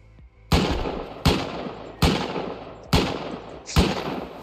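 Gunfire in the video game Rust: five loud, sharp shots spaced roughly evenly with short decaying tails, close and clear against a quiet background.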